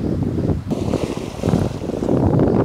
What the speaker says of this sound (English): Again, just a little bit of shore break here.